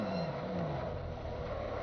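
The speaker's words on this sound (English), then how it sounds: "Gratuitous engine sounds" A GT3 race car engine in a racing video game, with Nissan cars on the Circuit of the Americas, revving and rising in pitch, then holding a steady loud whine through the short stretch.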